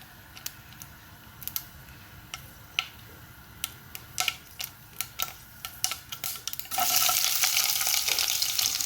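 Mustard seeds in hot coconut oil pop in sharp, irregular crackles, then a loud, dense sizzle bursts up near the end.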